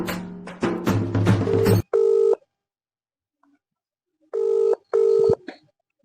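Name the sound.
phone call ringing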